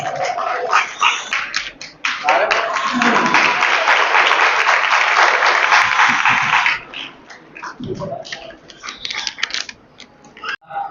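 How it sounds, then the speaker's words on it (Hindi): An audience claps steadily for about four seconds to welcome a district president at a quiz contest event, with someone speaking before and after and scattered claps trailing off. "ज़िले सदर नून लीग वलायत गिल साहब को हम आप सबकी भरपूर तालियों में वेलकम कहते हैं।"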